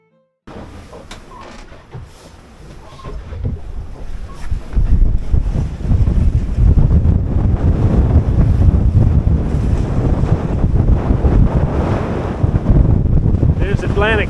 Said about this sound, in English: they're still pretty much a meter high, and we're crashing into them. We're getting a bit of spray over the bow